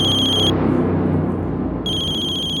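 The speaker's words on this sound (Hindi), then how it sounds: "सनी के राजकोट वाले घर की लैंडलाइन से फोन है।" A landline telephone rings at a home in Rajkot, with two bursts of steady electronic trilling separated by a short pause, loud and close over a low background rumble.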